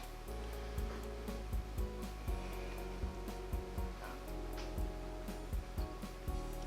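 An air conditioner blows a steady, close hiss above a coffee brewing setup, with a regular series of faint ticks and clicks running under the constant airflow.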